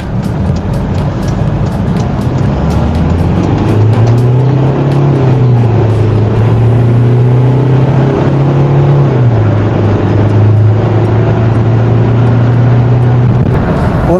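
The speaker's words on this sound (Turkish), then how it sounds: "0-100 km arasında bir hız testine bir kulak verelim" A Kia Sorento with an intercooler hose fault accelerating hard through a 0-100 km/h run, its engine note rising steadily in pitch, dipping briefly at a gear change, then climbing again, loud and continuous with no talk.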